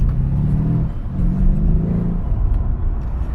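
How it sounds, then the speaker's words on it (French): Mercedes E63S AMG engine revving under acceleration, a deep, loud rumbling drone heard from inside the car that swells and rises steadily in pitch. "j'ai appuyé sur les gaz"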